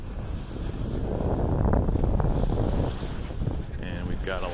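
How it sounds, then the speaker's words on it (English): A sailboat crosses the open Gulf of Cagliari off Sardinia, Italy, with strong wind buffeting the microphone and rushing water along the hull. The noise is continuous and close, swelling in the middle. "we're going to cross the Gulf of Cagliari, I think is what it's called, for about a 36-mile sail today."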